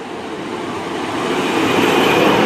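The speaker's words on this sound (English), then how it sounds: "this is our train home" A train arriving at a station: a steady, broadband rumble of wheels and carriages that grows gradually louder and closer, with no voices over it.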